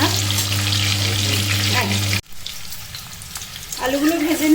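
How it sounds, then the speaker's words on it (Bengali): Tomatoes fry lightly in a pan with a steady sizzle, joined at first by a low electrical hum; after an abrupt cut the frying continues more quietly as a voice begins. "টমেটোগুলো হালকা করে ভেজে নিচ্ছি।"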